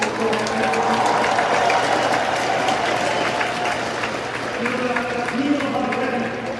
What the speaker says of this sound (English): So please give a round of applause to all the leaders in this room.